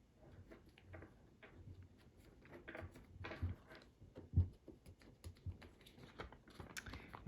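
Paper is folded and creased by hand into an origami fighter jet, a close, quiet series of soft crinkles, taps and rustles in an irregular rhythm, with no talk.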